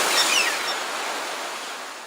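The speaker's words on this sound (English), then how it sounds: "Every time the waves crash against the shore, threatening to take the eggs out" Broadband surf from waves crashing against a shore in a Kiarostami film, a steady wash of noise throughout with faint high bird-like cries near the start.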